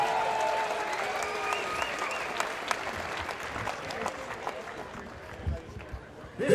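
A crowd at an MMA event applauds steadily, a dense wash of clapping and cheers that gradually thins out, with voices audible underneath.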